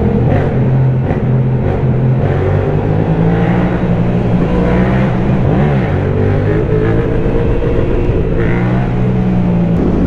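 A derestricted 2021 Yamaha MT-07 fitted with an Arrow exhaust rides into a tunnel, its engine a loud, continuous drone with rising and falling pitch sweeps, heard up close throughout.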